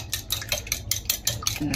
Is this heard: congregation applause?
no